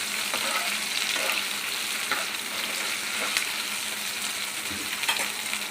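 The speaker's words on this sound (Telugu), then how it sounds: "చామగడ్డ వేసేసుకోవాలి. ఇది హై ఫ్లేమ్లో పెట్టుకొని ఫ్రై చేసుకోవాలండి." Taro root (arbi) frying in oil on a high flame, with a steady close sizzle and a few soft spatula scrapes and taps.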